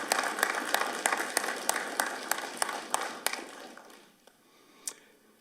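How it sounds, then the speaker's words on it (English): Audience applause at a Revere Fire Department swearing-in ceremony, a dense patter of hand claps with sharper individual claps standing out, thinning out toward the end with a final lone clap. "You can clap, it's okay."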